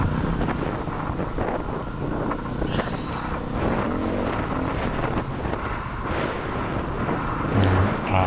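A Harley-Davidson Pan America motorcycle riding a dirt trail among boulders, engine droning steadily under heavy wind buffeting on the microphone, continuous and fairly loud, no talk.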